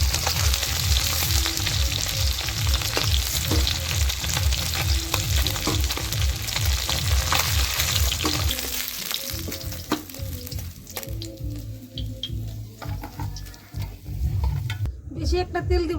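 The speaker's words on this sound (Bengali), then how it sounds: "লাল লাল করে মাছগুলোকে ভেজে নিয়েছি।" Pieces of fish sizzle loudly in hot oil in a home kitchen pan, a steady close frying hiss with occasional stirring and utensil clinks, quieter toward the end.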